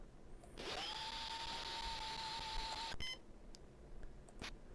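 Surgical bone drill in the DOS surgery game Life & Death gives a loud, steady electronic whine for about two seconds, then stops with a click, followed by quieter clicks.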